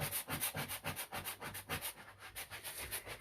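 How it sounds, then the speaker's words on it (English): A damp wall is scrubbed hard during cleaning, making steady back-and-forth rubbing strokes in a regular rhythm, close and fairly quiet, with no talking. "You have to rub it hard though."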